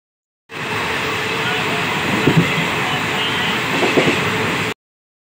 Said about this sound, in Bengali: আমাদের ট্রেন এই মুহূর্তে এসে পৌঁছালো প্রান্তিক স্টেশনে